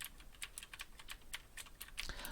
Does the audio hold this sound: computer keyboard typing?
yes